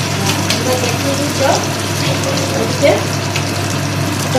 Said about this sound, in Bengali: প্রায় 3-4 মিনিট ধরে উল্টে পাল্টে দুদিক ভেজে নিতে হবে